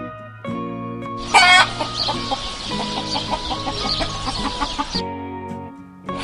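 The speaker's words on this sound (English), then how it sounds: "Hen." A hen clucks and squawks in a short burst of loud, close, harsh calls, with softer clucking before and after, heard alone.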